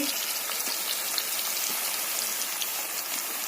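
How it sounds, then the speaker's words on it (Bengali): Potatoes frying in hot oil for a meat picnic dish, a continuous hissing crackle like light rain, even and moderately quiet throughout. "এই যে আলুটা আমরা ভেজে নিচ্ছি।"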